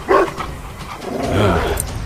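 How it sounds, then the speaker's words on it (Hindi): A dog barks in a couple of short, loud bursts near the listener, followed by yips and whimpering noises in a dramatized scene. "और उसने गोपाल के पीछे कुत्ता छोड़ दिया।"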